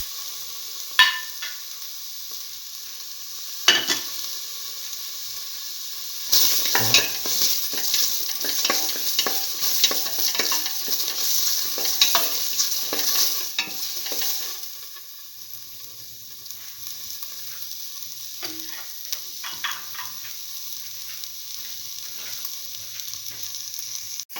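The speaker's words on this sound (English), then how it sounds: "put in the tomato pieces and the green chili and few of the curry leaves." Tomato pieces, green chili and curry leaves hit a hot pan for bottle gourd pigeon pea rice, starting with a few thumps before a loud, steady sizzle with stirring that eases into a softer hiss; no speech.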